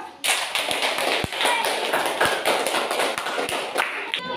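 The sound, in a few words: audience clapping hands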